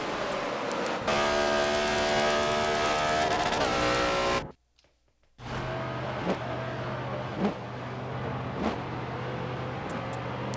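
Race cars roar around the Daytona oval in a NASCAR video game, engines loud and sustained with revving and shifting, a brief drop to near silence midway before a steady pack drone resumes.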